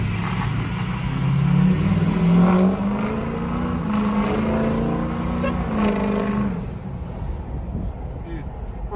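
Stock-turbo truck with a straight pipe and cold air intake accelerating on the street, loud raspy exhaust roar rising through gears with turbo whistle and air hiss, continuous for several seconds.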